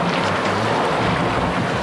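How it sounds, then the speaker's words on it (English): A strong wind gust sweeping over a sailboat off Tenerife, a loud, continuous roaring rush buffeting the microphone with no one speaking. "Here comes the gust."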